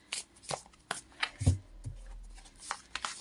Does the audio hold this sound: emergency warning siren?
no